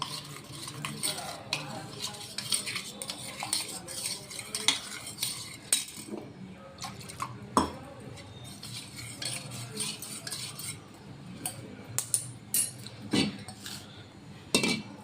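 A corn flour batter with water and a pinch of salt is stirred in a bowl, a steady scraping and clinking of a utensil against the sides for the whole stretch, close and clear, with no talk.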